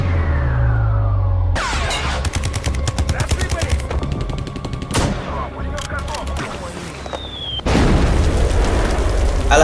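A film battle scene with rapid gunfire bursts and heavy booming blasts including a mortar explosion, loud and close, with sharp cracks clustered in rapid volleys and a final large blast near the end.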